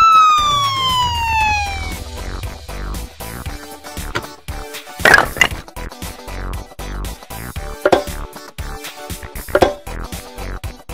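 A police car siren wails loudly with sweeping, rising and falling tones, followed by sharp, intermittent electronic chirps and bursts, alone with no talking.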